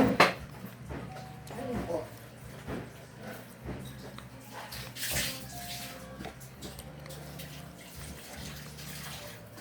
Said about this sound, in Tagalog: Ang gripo, nakawas na.